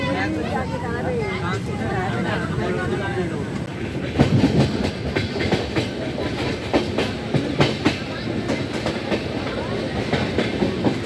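A Howrah–Radhikapur Kulik Express runs on its tracks with a steady rumble and rhythmic clickety-clack of wheels over rail joints, loud and close from inside the carriage, with passenger chatter in the background.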